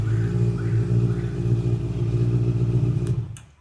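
A used motorcycle's engine idles smoothly with a steady low rumble, then takes a light throttle blip before cutting off near the end, close and loud with no talking.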